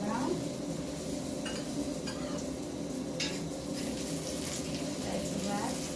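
Pumpkin chapati frying in a pan gives a steady, dense sizzle with occasional light scrapes, heard beneath a person speaking.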